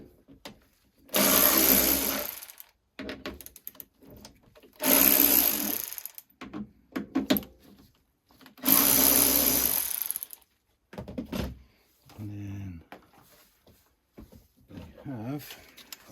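A power tool on a Renault Laguna 3 driver's door lock whirs in three bursts of about a second and a half each, close and loud, separated by quiet gaps with brief clicks and a person speaking between them.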